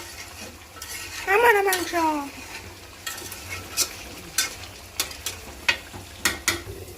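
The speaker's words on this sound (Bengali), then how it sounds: "শাকটা এখন নামিয়ে ফেলবো, বাগার দিব" Spices tempering in hot oil for a pan of cooking greens sizzle softly while a utensil clicks and taps against the pan in a steady rhythm; a voice speaks briefly near the start.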